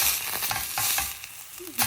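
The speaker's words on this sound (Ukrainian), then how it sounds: "І зараз вони вже чуть-чуть прижарились, я буду їх перевертати." Meat cutlets sizzling and crackling in a hot Zepter frying pan, a steady close frying hiss with occasional scrapes and light clinks of a utensil.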